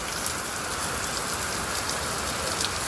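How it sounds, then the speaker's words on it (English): Heavy rain pours steadily in Florida sunshine, a dense, even hiss of falling water and drops on surfaces with no pauses and no voices. "as you can see that it's pouring"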